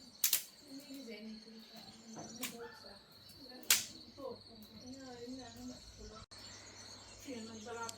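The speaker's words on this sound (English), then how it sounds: "This place is super nice, calming, full of birds and roosters." Birds call and chirp around a cemetery in Maramureș, with sharp whistle-like bursts and steady insect-like trilling, all fairly faint and outdoors.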